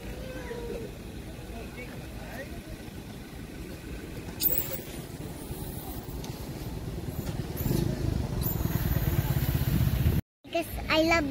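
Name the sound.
motorcycle passing by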